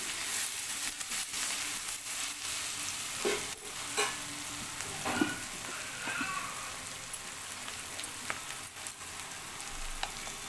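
Chopped onion frying with salt in a pan, a steady sizzle broken by intermittent scraping and clinking as a spoon stirs it, close and moderately loud with no talking.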